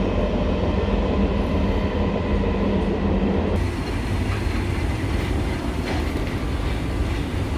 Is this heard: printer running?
no